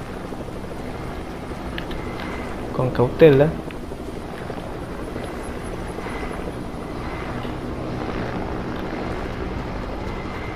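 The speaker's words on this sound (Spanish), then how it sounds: "Veo un helicóptero." A helicopter in the Fortnite video game drones steadily as a constant engine and rotor hum throughout, while a player talks briefly over it.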